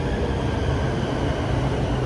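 A Bangkok BTS Skytrain arriving at a station gives a steady, loud rolling rumble of rail cars that holds for the whole stretch, with no voices.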